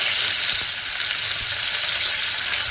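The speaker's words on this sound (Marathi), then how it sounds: "थोडंसं तेल थोडं गरम झालं की लसूण ठेचून घ्यायची, लसूण, हिंग, थोडंसं कढीपत्ता" Crushed garlic, asafoetida and curry leaves frying in hot oil in a kadhai, a loud, dense, continuous hissing sizzle heard up close with no voices.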